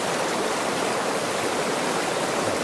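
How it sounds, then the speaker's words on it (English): River water flows over a rock in a steady, close rushing wash that stays even and continuous. "Look at that rock, guys, how the water just goes over it."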